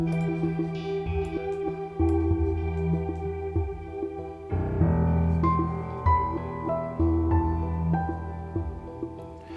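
A piano motif rings out over a layered music bed made for sync licensing, sustained chords and low bass hits pulsing in a steady pattern, with a shift to a fuller section midway; no one speaks.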